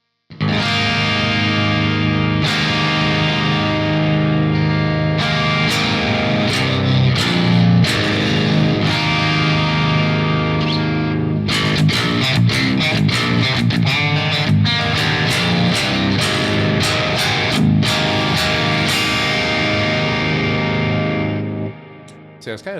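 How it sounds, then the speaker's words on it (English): Electric guitar through a Neural DSP Rabea plugin modeled on a bright Marshall plexi amp plays loud, distorted chords and riffs with short pauses between phrases, alone without talk, before stopping. "So it's kind of just like that kind of bright Marshall plexi kind of sound."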